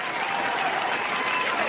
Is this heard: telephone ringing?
no